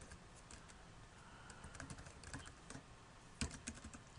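Quiet, close keystrokes tapping on a computer keyboard in a short irregular run, with one sharper spacebar-like hit near the end and no voices.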